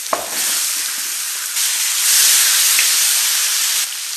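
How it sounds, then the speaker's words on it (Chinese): Cucumber tipped into a hot pan of rapeseed oil with meat, giving a loud, close, steady sizzle and hiss that swells midway and holds, with faint stirring, no voices. "然后把黄瓜倒进去"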